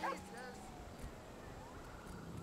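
Dog in GTA 5 gameplay giving a short yipping bark at the start, followed by background game noise with low voice-like sounds.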